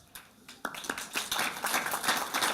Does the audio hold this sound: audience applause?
yes